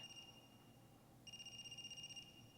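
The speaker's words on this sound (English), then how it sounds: "Is that a phone ringing?" A phone rings in the video game AI: The Somnium Files, two bursts of steady high electronic trilling separated by a short gap, fairly faint over a low background of ambient noise.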